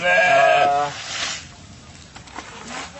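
A goat being offered fermented feed lets out one loud, close, quavering bleat lasting under a second, followed by quieter rustling and faint sounds.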